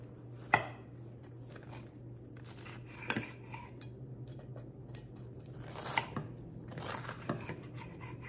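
Knife cutting through a raspberry pecan brie from the middle, a few scattered crisp cuts and taps on a board against a steady low hum, close and quiet, with no voices.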